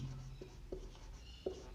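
Writing by hand during a chemistry lesson, a few soft separate pen or chalk strokes at a moderate distance, over a steady low background hum without speech.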